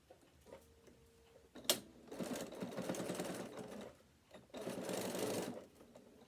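A sewing machine stitches a bag strap connector seam about half an inch from a ring, running in two bursts of steady, close-up rapid stitching separated by a brief pause, with no talking.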